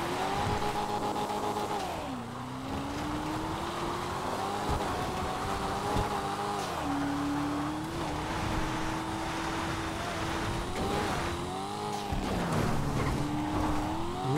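A racing car engine in the video game GTA 5 Online, a Coquette D1, drones steadily, its pitch climbing and falling with gear changes throughout, fairly quiet and continuous with no talking.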